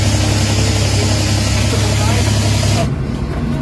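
A Suzuki K6A engine idles loud and close with a rough, uneven rumble whose RPM rises and falls, then drops off abruptly near the end.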